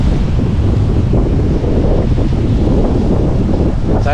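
Powerful wind blows hard against the microphone on open water, a loud constant roar with rumbling low-end buffeting and slight surges, without any voices.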